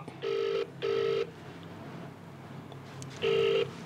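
A telephone rings unanswered in two quick bursts, then falls quiet and rings once more. The rings sound clear and fairly close over a faint hiss, and nobody speaks.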